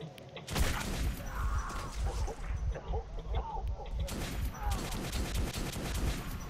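Shotgun fire in the video game Metro 2033 (a Frontline level): two loud, sharp blasts about three and a half seconds apart, over dense, continuous in-game rumble and clatter.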